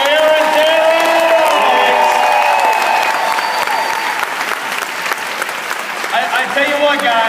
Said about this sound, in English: Do give a round of applause for Aaron Taylor!